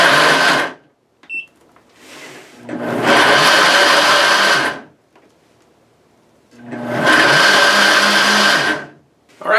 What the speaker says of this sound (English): Alright, so the blender blended without a hitch.